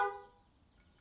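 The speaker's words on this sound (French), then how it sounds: "Et il klaxonne" A single short car horn honk sounds at the start of a street scene in a Nigerian film, then quickly fades into a quiet background.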